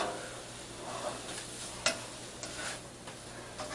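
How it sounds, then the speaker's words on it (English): Ingredients for a potato puff burrito get mixed in a pan on the stove, a soft sizzle under scraping and stirring, with one sharper knock of the utensil partway through. "Just gonna mix it all in really well"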